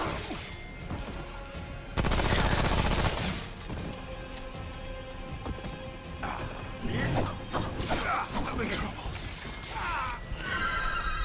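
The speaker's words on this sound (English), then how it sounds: "And I can melt him quite easily with my SMG." SMG fire and clashing combat in the video game Remnant: Subject 2923, with crashing impacts and rapid mechanical clatter dominating a dense, loud mix of game music and effects, alone without talk.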